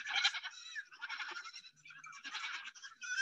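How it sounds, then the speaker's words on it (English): Several cute goats bleat in quick succession while running, their high, wavering cries overlapping continuously at close range with no talking. "So I'll show you guys the video of these cute running goats. I'm gonna play the audio just because they sound really cute."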